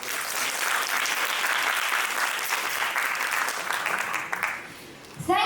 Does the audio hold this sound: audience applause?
yes